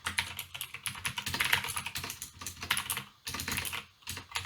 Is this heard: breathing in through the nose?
no